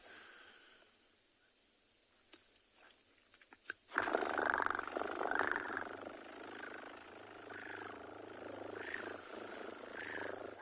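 A human voice imitates a big cat's deep, rumbling purr, starting after a few soft clicks and continuing loud and steady with rhythmic pulses.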